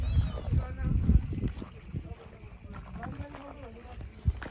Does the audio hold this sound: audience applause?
no